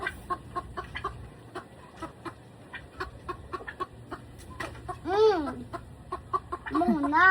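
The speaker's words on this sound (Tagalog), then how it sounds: "Ngayon kami sa manok." Chickens clucking close by, a run of short irregular clucks with a couple of louder drawn-out squawking calls near the end, no talking over them.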